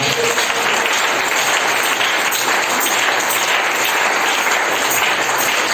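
A church congregation applauds and cheers in a dense, steady wash of clapping that stays loud and close for the whole stretch, with no voices rising above it.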